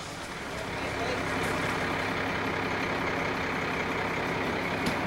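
A truck pulls out hauling a large silver bird sculpture, its engine a steady, fairly loud broadband rumble that builds slightly and then holds, with a faint brief click near the end.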